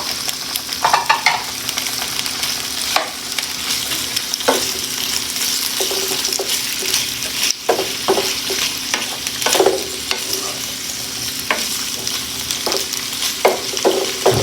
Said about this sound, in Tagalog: Halu-haluin lang natin.